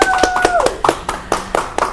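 Several people clap in sharp, spaced bursts at a small indoor gathering while a voice speaks briefly over the start, the claps loud and close.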